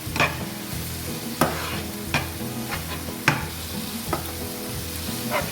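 Spinach for chicken malai palak frying over a high flame, a continuous hissing sizzle broken by several sharp scrapes and clatters of stirring, close and unaccompanied by talk.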